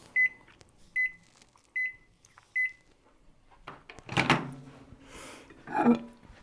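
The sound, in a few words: microwave oven running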